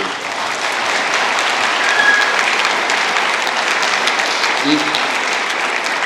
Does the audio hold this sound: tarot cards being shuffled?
no